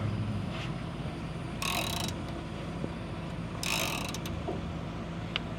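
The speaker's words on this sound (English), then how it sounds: "my tenant let me borrow a 15mm ratcheting wrench so we can hopefully get this broke loose a little bit easier." A 15mm ratcheting wrench works a stubborn bolt on a fire truck, giving two bursts of rapid metallic ratchet clicking about two seconds apart over a steady low mechanical hum.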